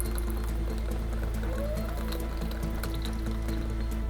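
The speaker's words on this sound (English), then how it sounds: "Add some water to that and mix." Paint being mixed with water for dripping-head craft art, a steady wet churning and squishing that runs continuously at close range with no pauses.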